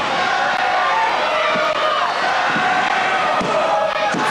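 A wrestling crowd in Newcastle roars in a dense, continuous wash of cheering and shouting, with occasional thuds from the ring breaking through the steady noise.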